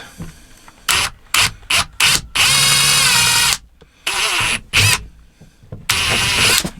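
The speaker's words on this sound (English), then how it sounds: "And we're just going to drill it out." A power drill drilling out a hole in a GMC Yukon or Chevy Tahoe liftgate panel whirs in several short bursts, then runs for a longer stretch before a few more brief pulls on the trigger, loud and close.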